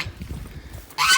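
A goose on a winter farm gives a single loud, close honk at the end, after a short stretch of low background rumble.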